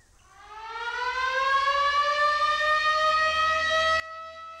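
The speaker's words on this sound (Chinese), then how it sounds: "防空警报！ 赶快撤离！" Air raid siren in a wartime drama set in Chongqing, a loud wail rising in pitch and holding steady for about four seconds before cutting off sharply, with no voices.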